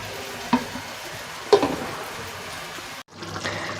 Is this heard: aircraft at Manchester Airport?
no